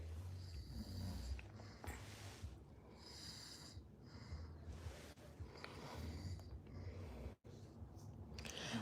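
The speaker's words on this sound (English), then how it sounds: "I want her to tell me no more that I snore too loud." A man snores in long, rough, rhythmic breaths, fairly faint and steady, with no talk over it.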